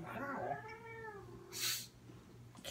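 A house cat gives a drawn-out, wavering meow up close, followed by a brief hissy noise and a quiet room.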